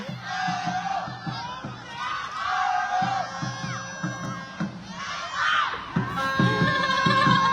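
Football supporters in a stadium chanting and cheering together, with a rhythmic drumbeat driving the crowd and whistles and shouts on top, steady and distant from the pitch side.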